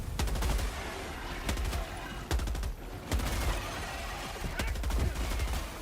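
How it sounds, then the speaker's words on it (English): A heavy machine gun fires in Helldivers 2 in loud, rapid bursts of gunfire that run almost continuously, broken only by a few brief pauses. "But we have the heavy machine gun to clean up"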